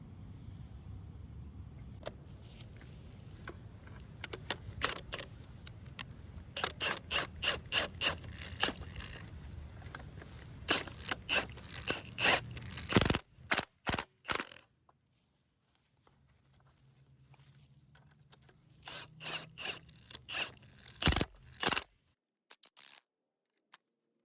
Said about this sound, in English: I'm going to put the vice grips on the shaft here to hold that tight so that I can take this nut off